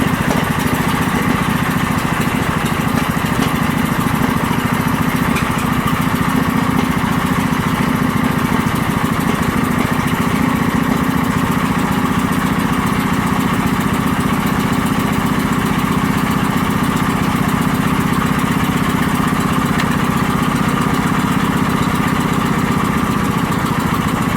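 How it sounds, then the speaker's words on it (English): A small engine in cold weather, choke already off, runs at a steady, even drone for the whole stretch, loud and close, with no talking over it. "This one cranked a little bit, but it always starts up in the cold."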